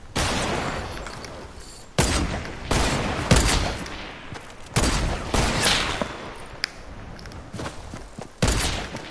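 Repeated gunfire in a battle-royale style video game: irregular bursts of sharp shots and thuds, some near and loud, others farther off, alone without talk.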